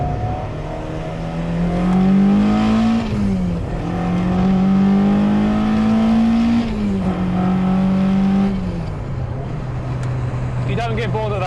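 A Mazda MX-5 sports car engine, non-turbo, revs hard and repeatedly, its pitch climbing and falling in loud, sustained surges close by, with a brief high squeal near the end.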